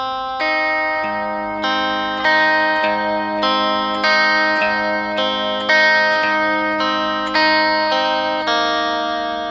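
Electric guitar run through chorus, delay and mild distortion plays a song's chorus riff in steady eighth notes, bright shimmering repeated notes with a regularly picked bass note, loud and close with no voice.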